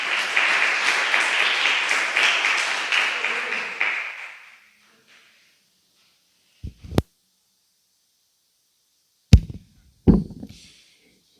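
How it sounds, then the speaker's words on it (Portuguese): A church congregation claps in steady rhythm for about four seconds, then the applause fades into near silence broken by a few sharp knocks and thumps. "que as palmas louvem ao Senhor"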